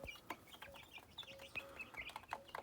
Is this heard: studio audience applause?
no